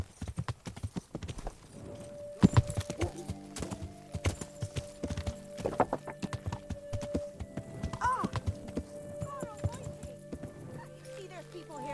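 Horse hooves clip-clop steadily in Kingdom Come: Deliverance, a medieval role-playing game, with a neigh in the middle. Game music and a speaking voice run underneath the walking gait.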